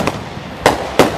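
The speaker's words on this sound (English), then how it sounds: "Grand opening, 4-finger fireworks." Fireworks reloads for a 4-finger grand opening finale burst loudly close by, three sharp separate bangs spaced through the moment.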